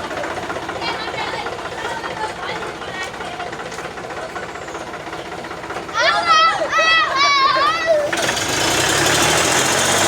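A Mahindra tractor engine runs steadily with a rattling, thumping drone, partly masked by nearby voices and children's shouts, before a louder, broader noise takes over near the end.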